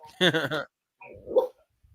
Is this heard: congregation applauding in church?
no